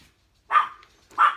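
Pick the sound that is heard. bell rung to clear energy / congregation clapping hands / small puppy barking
small puppy barking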